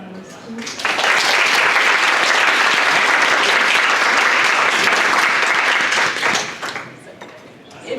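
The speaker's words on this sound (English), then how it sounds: "Do you have another round of applause for our panelists?" Audience applause for a panel at a youth entrepreneurship conference: sustained, dense clapping that swells quickly, holds steady and loud for several seconds, then tapers off.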